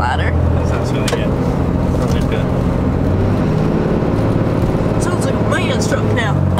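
A 2018 Cummins 6.7 diesel truck engine fitted with a new air intake runs loud and steady with a deep rumbling idle throughout. Voices talk over the engine.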